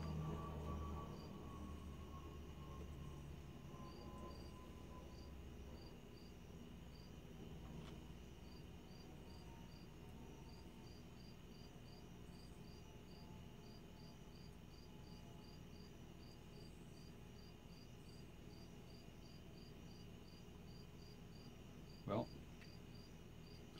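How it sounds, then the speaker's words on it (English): Crickets chirping outside on a still night after rain, a faint, regular pulsing trill that continues throughout, with a distant low train rumble underneath and a brief knock near the end. "I'm hearing crickets and cicadas outside."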